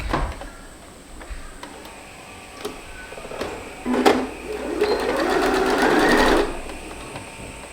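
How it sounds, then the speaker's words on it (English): An overlocker serges a shoulder seam on a baby romper, starting with scattered clicks before a short, building burst of stitching that then stops abruptly. "Then I'm going to jump on my overlocker and then iron it towards the back"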